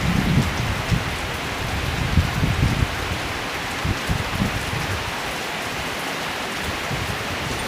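Heavy storm rain in Surin, Thailand, pours steadily with a dense hiss, low rumbling gusts strongest early on, continuing without pause.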